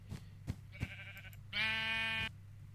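A Minecraft sheep bleats once in a clear, nasal, wavering call lasting under a second, preceded by a few soft thumping footsteps in a quiet setting.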